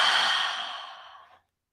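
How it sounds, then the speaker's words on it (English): A single long, breathy exhale follows a deep breath in through the nose, airy and close, gradually tapering off into silence after about a second and a half. "Breathe in deeply into your nose and exhale out your mouth."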